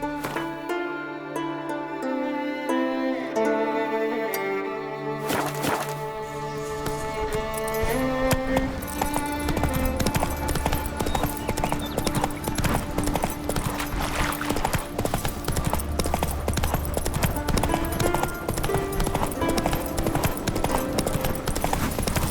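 Hooves of Roach the horse in The Witcher 3 clip-clop in a steady galloping rhythm over a swelling orchestral game score, with no talk.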